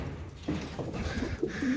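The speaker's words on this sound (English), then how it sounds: "you can see the pigeons, and you can see that there are plenty of young pigeons everywhere" Pigeons coo inside a loft among many young birds, soft low throaty calls repeating several times close by over a muffled, roomy background.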